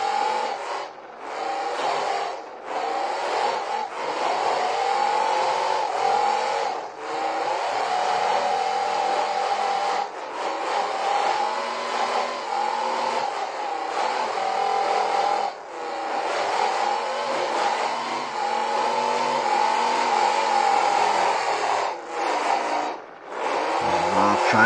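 Race car engines in the BeamNG video game drive, two cars stuck together, one straining to break free: a steady high buzzing roar that surges and dips repeatedly over about twenty-five seconds, loud and close with brief drops.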